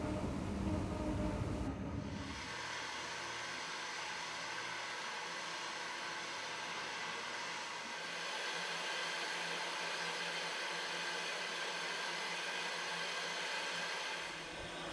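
A steam train on the North Yorkshire Moors line glides into Grosmont station over the level crossing, a steady broad rumbling hiss close by, with a louder burst in the opening seconds before settling into an even roll.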